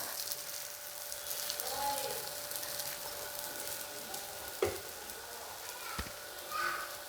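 Adai dosa batter, a traditional Chettinad lentil crepe, sizzles and crackles steadily on a hot pan, a soft continuous frying hiss with a few faint clinks.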